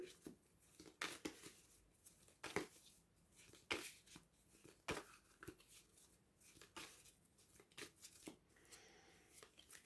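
A Rider-Waite tarot deck is shuffled by hand, a series of quiet, close riffling and slapping card bursts in an irregular rhythm, with no one talking.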